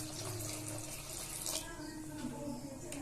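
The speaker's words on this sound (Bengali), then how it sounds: "এর মধ্যে আমি একটু হালকা গরম জল দিয়ে দিচ্ছি।" Lukewarm water poured into thick ground rice batter for dudh chitoi pitha, a steady close-up splashing pour running continuously without pause.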